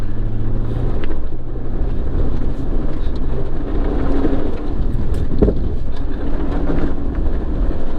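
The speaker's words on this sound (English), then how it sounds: "maybe that's the exhaust" A PT Cruiser race car engine roars steadily at close range, its droning exhaust note rising and falling with gear changes over wind buffeting.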